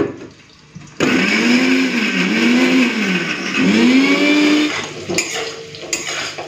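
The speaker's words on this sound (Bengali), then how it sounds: "চলুন এটাকে একটুখানি বেটে নিই।" A kitchen mixer-grinder whirs loudly for several seconds as it grinds whole cumin into a spice paste, its motor pitch rising and falling, then a few rattling knocks as it stops.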